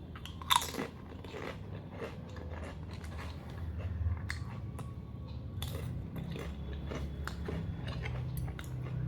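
Close, crisp crunching and chewing of chips and spicy ramen, repeated bites and steady mastication at a soft, intimate level with no talking.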